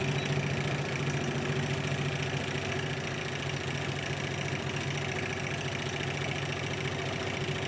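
A sewing machine stitching straight down the middle of a pillow, a steady, loud mechanical whirring hum with a fine rapid needle rhythm running unbroken from start to finish.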